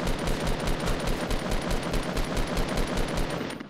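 Rapid automatic gunfire in a Fortnite or PUBG match, a dense, steady burst of shots repeating evenly for several seconds, loud and close with no talking over it.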